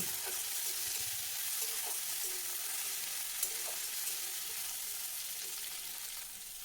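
Onion, capsicum and chopped tomato fry in a pan for an egg dish, a steady close sizzle broken by light scraping stir sounds, with no voices.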